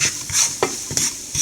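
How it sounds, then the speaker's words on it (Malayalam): Garam masala and chilli powder stirred and sautéed in oil over a very low flame, a soft sizzle under a few quick scraping strokes of a spoon against the pan, close up. "കുറച്ച് ഗരം മസാലപ്പൊടി നല്ലപോലെ ഒന്ന് വഴറ്റിയെടുക്കാം"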